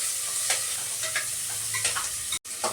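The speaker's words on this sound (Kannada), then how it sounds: "ಬ್ರೌನ್ ಆಗೋ ತನಕ 2 ನಿಮಿಷ ಫ್ರೈ ಮಾಡ್ತಾಯಿದ್ದೀನಿ" Chopped onions and green chillies frying in a pan for a Kannada hotel-style rice bath: a steady bright sizzle with occasional soft scrapes of stirring, close and continuous, with one brief dropout near the end.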